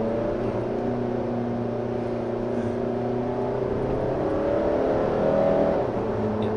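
A 2017 Volvo XC90 D5 accelerates steadily while its automatic gearbox shifts up, a continuous engine drone with rising and stepping tones heard from inside the cabin, loud and unbroken with no talk.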